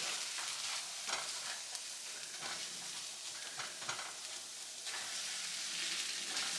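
Food sizzles and fries loudly in a pan as it is flipped, with a dense, continuous crackle and a few sharper pops and scrapes, close and without talk.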